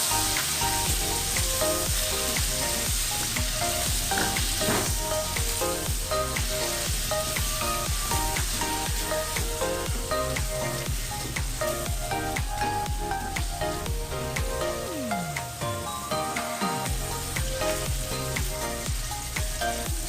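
Okra (lady's fingers) frying in a pan gives a steady, loud, dense sizzle that crackles on without a break, with faint stirring knocks and scrapes underneath and no voices.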